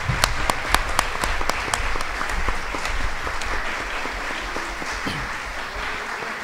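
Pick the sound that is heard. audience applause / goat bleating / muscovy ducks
audience applause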